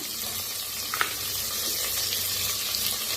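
Peanuts, cashews and green chilies fry in a pan, a steady close sizzle that crackles throughout with no voice over it.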